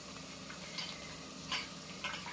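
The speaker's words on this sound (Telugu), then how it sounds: "ఇవి రెండు కూడా వేసి కొంచెం ఫ్రై చేసుకుని" Ingredients frying in a pan for a Telugu fish curry with raw mango and tamarind, giving a faint, steady low sizzle with a few soft stirring clicks.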